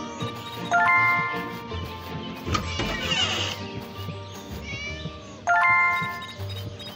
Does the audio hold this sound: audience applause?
no